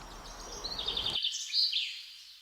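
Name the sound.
birdsong in woodland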